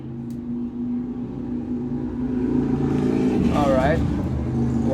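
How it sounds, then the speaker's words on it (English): A loud motorcycle passes close by outside, its engine swelling to a roaring, revving peak with a rising whine, under a steady hum of background noise. "that was a loud motorcycle"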